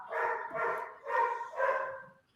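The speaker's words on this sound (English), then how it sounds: "Someone says treats, and the dog just goes ballistic." A dog barks excitedly at the offer of treats, four loud close yapping barks in quick succession, each tonal and bright, with no talk over them.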